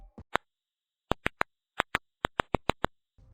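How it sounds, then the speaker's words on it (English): A stressed plant's ultrasonic emissions are rendered as sharp, isolated clicks, about a dozen in irregular small clusters, crisp and close against near silence. "This is the sound of a plant under stress."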